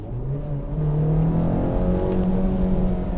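Engine of a new Honda Civic Type R hot hatch on the road, a steady loud drone with rising and falling pitch as it accelerates, heard from inside the car with no talk.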